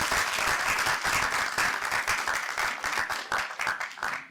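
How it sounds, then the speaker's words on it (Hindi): Sustained, vigorous audience applause at a college mushaira and book release ceremony, dense clapping at a steady level that tapers off at the end. "जोरदार तालियां होनी चाहिए इनके लिए।"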